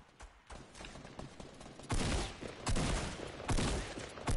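Rapid gunfire crackles through a squad fight in Fortnite Battle Royale's 50v50 mode, dense overlapping bursts growing louder and heavier after the opening seconds, with sharp shots stacking into near-continuous volleys.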